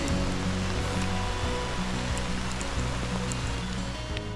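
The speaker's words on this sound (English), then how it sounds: "Raining like this most of the day for us." Constant rush of heavy rain pouring down on the Crooked River in British Columbia, a dense unbroken hiss with faint low rumble underneath, no voices.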